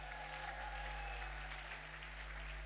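Congregation clapping during a Sunday church service, steady continuous applause filling the room with a low hum underneath, no voices.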